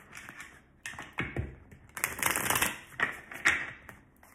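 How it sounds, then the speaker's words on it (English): Tarot cards being shuffled by hand: quick riffling bursts and soft taps and slaps, close up, in irregular rhythm with no talking. "Make sure I shuffle the tarot really well."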